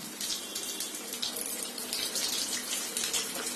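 Chicken kababs frying in hot oil in a pan on a stove, a steady, dense crackling sizzle that holds level throughout with no pauses.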